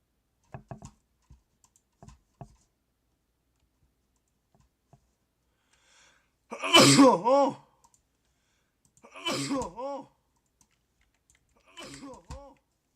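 A few harsh, throaty coughs burst out in a quiet room, separated by short pauses, with faint clicks before them.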